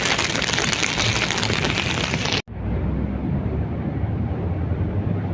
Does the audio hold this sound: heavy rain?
yes